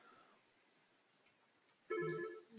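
A mobile phone ringtone starts suddenly after a near-silent stretch, a loud melodic electronic tone that sounds near, breaks briefly and then begins again.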